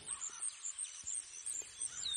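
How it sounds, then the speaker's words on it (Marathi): Birds chirp in a natural setting near a flowing stream, with faint, high, repeated tweets over a soft steady background and no talking. "पक्ष्यांचा किलबिलाट"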